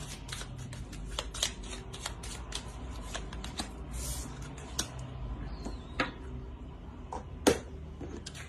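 Tarot cards are shuffled and drawn by hand, producing soft, close riffling and sliding with scattered sharp flicks and taps, quiet and intimate, with no talk over them.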